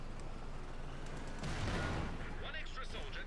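Tank cannon fire and battle gunfire in the strategy game Company of Heroes 2, a steady roar of shots and rumbling impacts with a heavier burst midway, under a commentator's voice.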